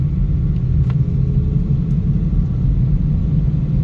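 Steady low rumble of diverted road traffic streaming past a building, a continuous heavy drone of vehicles with a couple of faint higher passing sounds on top, no voices.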